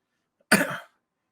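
A single short throat-clearing or cough, one brief rough burst in an otherwise quiet room, close by and heard alone.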